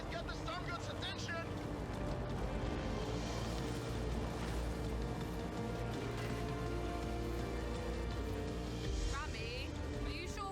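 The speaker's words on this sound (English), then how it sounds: "Rami, are you sure we should be heading into the storm? A bit of rain is nothing to fear, my friend." Heavy rainstorm in the driving game Forza Horizon 5, a dense steady hiss of rain with a low rumble beneath, loud and continuous throughout, with a voice talking over it.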